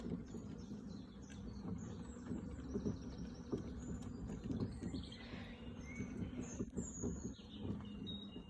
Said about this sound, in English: the bird song is louder than the traffic at the moment